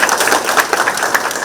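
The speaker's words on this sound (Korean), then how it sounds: "박수 한번 드리겠습니다." Audience at a regional community meeting in Yeongdeok clapping together, a dense, even patter of many hands filling the room for the short stretch.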